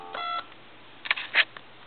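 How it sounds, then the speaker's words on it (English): A 1950s telephone sends dialing tones: a steady multi-tone note up front, then a few brief tone blips, faint and clean over a low line hum. "I'm going to dial a number"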